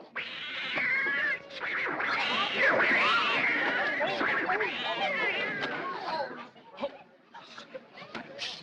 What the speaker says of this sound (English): you put those cats on the piano?